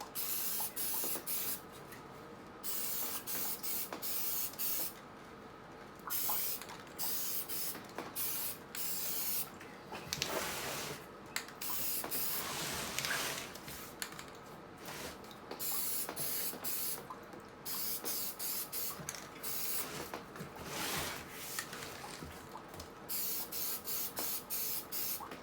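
Mercedes Sprinter steering wheel being spray painted with an aerosol can, repeated hissing bursts of varying length with short pauses between, close and fairly quiet, no talk.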